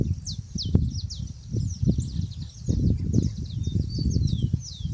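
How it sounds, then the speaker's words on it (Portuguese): Birds sing outdoors, with thin chirps and whistled calls over a steady rustling, windy background; the calls are moderately near and continuous, with no speech. "Escutou o canto dos pássaros?"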